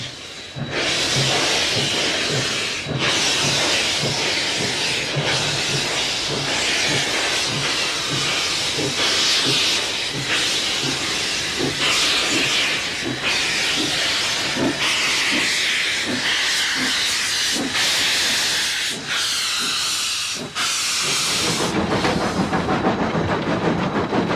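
A steam locomotive on the Zig Zag Railway in the Blue Mountains near Sydney hisses loudly and continuously, with rhythmic chuffing bursts and clanking underneath, close by and without voices.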